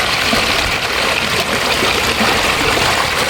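Floodwater rushes steadily down a street in Thoothukudi, Tamil Nadu, after record rain, a loud, continuous broadband flow with no pauses or voices.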